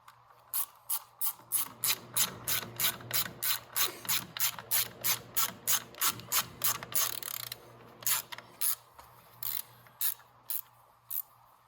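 A ratchet wrench tightens bolts on a Venom Roma 50cc scooter, giving a close, loud run of regular clicking strokes with a brief pause partway through before the clicking resumes. No one speaks.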